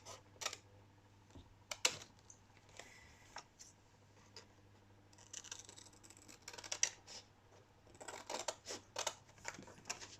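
Scissors snipping through fabric while a protective pouch for surgical masks is sewn, giving quiet, scattered clicks and cuts in irregular bursts with no talk.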